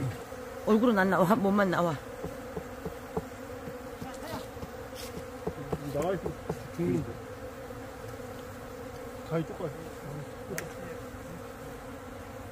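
Korean native honeybees buzzing around an opened hive, a steady close hum with individual bees droning past, while people talk nearby.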